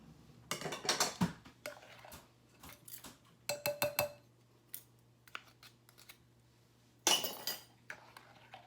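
A spoon clinks against a bowl while melted butter is stirred into a bread pudding mixture, giving sharp, irregular bursts of metal-on-dish tapping close by with quiet gaps between.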